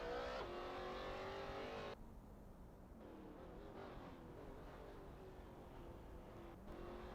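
Race cars from a racing video game, including a Jaguar F-Type Project 7 and a McLaren 540C, make a quiet, continuous engine drone on track, with a shift in pitch partway through and a steady hum after it.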